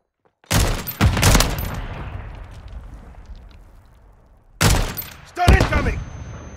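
Gunfire and a grenade blast from the Call of Duty video game: two sharp loud bursts near the start with a long decaying rumble, then two more heavy bursts near the end, with brief voice callouts mixed in.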